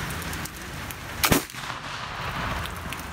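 A single sharp crack from a TVM Early Lancaster left-handed .50 caliber flintlock rifle fired outdoors during field testing, one loud report amid steady background noise.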